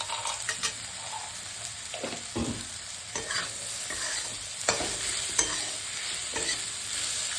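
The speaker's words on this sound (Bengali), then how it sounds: "সবজিগুলো ভাজা হয়ে গেছে, মাঝখানে ভাজছি, ভাজা হয়ে গেছে।" Beans, carrots, onion and garlic with roasted peanuts fry in a pan for namkeen rice; a constant sizzle runs under irregular spatula scrapes and stirs, close and moderately loud, with no speech.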